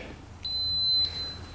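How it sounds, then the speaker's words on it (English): A 4x4 ATV gives a single short, clear electronic beep, lasting about half a second, when its start button is pushed in a quiet workshop. "When we push the start button, we should hear a beep."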